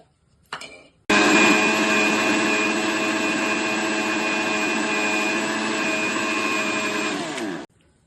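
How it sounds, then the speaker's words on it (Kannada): A kitchen mixer grinder pulverises chana dal into powder, a loud, steady whirring grind that starts abruptly after a brief clatter and runs for about six seconds before cutting off, with no voices. "ಕಡಲೆ ಪಪ್ಪು ಮಿಕ್ಸಿಗೆ ಹಾಕೊಳ್ಳೋಣ"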